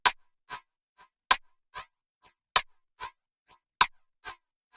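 Rim sound processed through Valhalla Space Modulator's Double Slap preset, four sharp clicks in an even rhythm, each followed by two fainter slapback repeats, dry and isolated.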